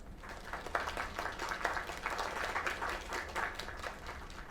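A crowd gives a round of applause, sustained dense clapping at moderate distance, fairly even and continuous throughout.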